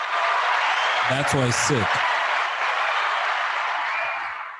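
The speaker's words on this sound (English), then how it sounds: "Give him a fucking round of applause." A round of applause rolls steadily for several seconds, a broad clapping wash that fades near the end, while someone speaks briefly over it.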